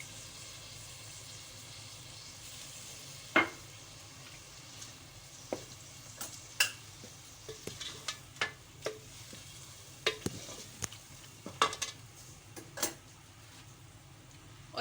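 Tomatoes go into a pot of spiced ginger-garlic base for kofta biryani and are stirred, with a low sizzle under scattered scraping clicks and knocks of the spoon against the pot.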